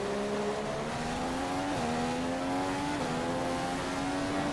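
Formula 1 race car engine in a racing video game at Bahrain, droning loud and steady at high revs with brief pitch dips at gear changes, continuous and close throughout.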